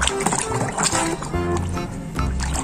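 Muddy toys, a train, chicken, fish, car and starfish, are rinsed in water with continuous close splashing, sloshing and gurgling that stays busy throughout, with possible faint voices underneath.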